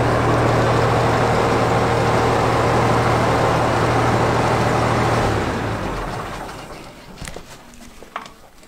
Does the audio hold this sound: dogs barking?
no